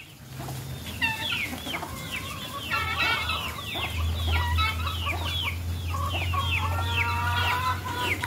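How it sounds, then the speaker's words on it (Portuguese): Chickens and a rooster in a pen clucking and cackling continuously, close and fairly loud, with a low steady hum underneath and no talking. "E no cercado algumas galinhas, né? O galo."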